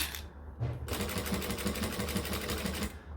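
A sewing machine stitches slowly along a long straight edge of a Donna bag by Swoon, its steady rapid needle rhythm running close and fairly loud after a brief start-stop at the beginning.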